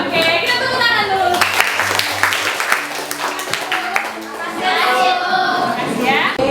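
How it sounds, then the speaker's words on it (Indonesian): Students in a Catholic junior high classroom clap together in a brisk round of sharp, overlapping handclaps for a few seconds, with a teacher's voice and children talking before and after. "Oke, kita tepuk tangan dulu."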